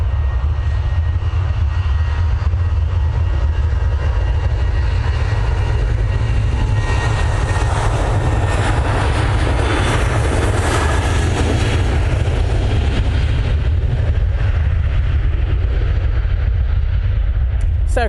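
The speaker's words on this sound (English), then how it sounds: "SAS is coming in, but this is a Ryanair special livery" A Ryanair aircraft in special livery arrives at Manchester Airport, its jet engines roaring loud and close with a heavy low rumble, swelling into a bright whine near the middle before easing off.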